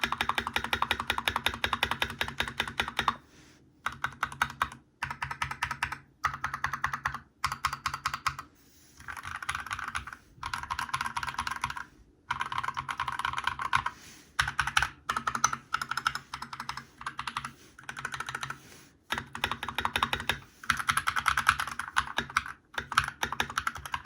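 Typing on an Akko 3084B Plus wireless mechanical keyboard, close and clear, with rapid bursts of keystrokes separated by short pauses over about twenty-four seconds, no voices.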